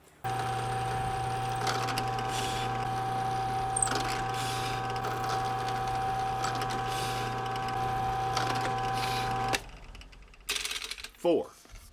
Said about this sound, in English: there's my holes drilled for the threaded metal inserts